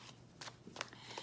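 A new deck of Radiant Rider-Waite tarot cards is shuffled in a few quick, soft riffling bursts, faint and close, over a quiet background.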